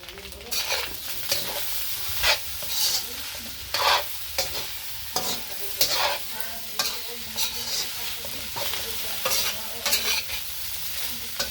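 Fried rice being stirred and fried with soy sauce in a pan, with steady sizzling broken by repeated scraping and tossing strokes throughout, close and fairly loud.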